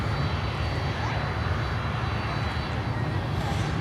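A departing airliner on runway 9 at Miami Airport, its engines a loud, steady roar that holds without break from start to finish.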